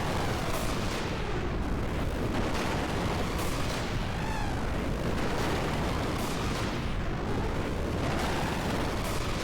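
Continuous, loud explosions from the Xenogears finale battle against Deus, a dense roaring barrage of booms and rumbling blasts with sweeping swells, unbroken from start to finish with no talking.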